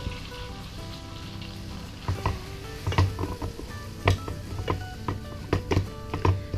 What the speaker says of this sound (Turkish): Bunu sürekli karıştırarak yakmadan pembeleşinceye kadar kavuracağız.